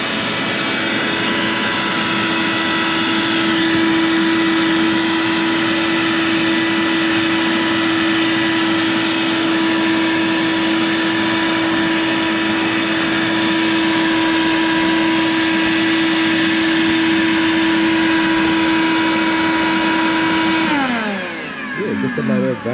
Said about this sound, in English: Just a matter of vacuuming it up